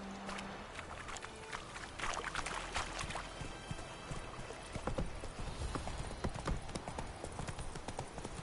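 Horse hooves clip-clop steadily as a mount is ridden in a video game, a brisk, even rhythm of fairly quiet hoofbeats running through the whole clip.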